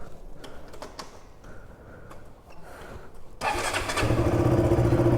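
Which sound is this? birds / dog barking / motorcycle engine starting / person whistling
motorcycle engine starting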